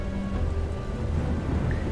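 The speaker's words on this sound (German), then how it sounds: "Es regnet." Steady rain with a stormy rumble on the start screen of the Tomb Raider video game, a dense continuous hiss filling the background without any voices.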